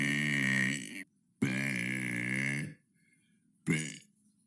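A person produces two long, loud, resonant burps followed by a shorter third one, close up with short pauses of quiet between them.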